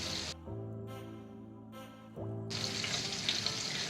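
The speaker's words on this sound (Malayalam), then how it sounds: "നല്ലതായിട്ട് ഇതിനെ അങ്ങ് ഇളക്കി കൊടുക്കാം" Beans and grated coconut fry for thoran in a pan, a steady sizzle broken by pauses, then a louder, hissing sizzle as the mixture is stirred.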